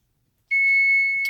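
A kitchen cooking timer goes off with a sudden loud, steady high-pitched electronic beep that starts abruptly and holds for under a second.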